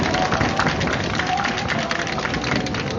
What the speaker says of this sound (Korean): 끝까지 힘내시라고 박수 한번 보내주시기 바랍니다.